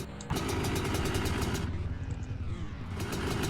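A pit bike engine idling in a motocross video game at a Boot Lake track, a loud, steady buzzing drone that runs continuously close-up after a brief quiet start.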